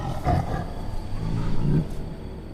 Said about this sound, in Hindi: राम और लक्ष्मण ने भयंकर चीखों और दहाड़ों से गूंजते घने जंगल को देखा।